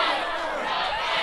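A wrestling arena crowd chants rock and roll chants, a brief loud roar of many voices filling the hall with no pause.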